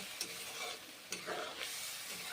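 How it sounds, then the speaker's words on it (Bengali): Ground cumin, coriander and chili paste frying in a pan, a steady soft sizzle broken by a few brief stirring scrapes, quiet and close. "এখন মশলা কষে নিচ্ছি"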